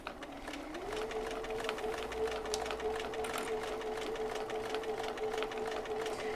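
A sewing machine stitches a curve in fabric, running with a steady, even whirring hum at a constant speed and no talk.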